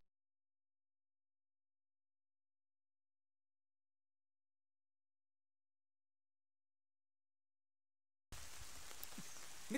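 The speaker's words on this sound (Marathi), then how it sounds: "पाऊस आलाय बघा" Rain falls on a forest campfire, a brief burst of hissing, pattering noise that appears only at the very end after long silence.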